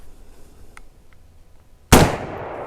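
A single loud, close blast from a Henry All Weather lever-action rifle in .45-70 Government, fired outdoors after a quiet lead-in, with a long ringing decay trailing off.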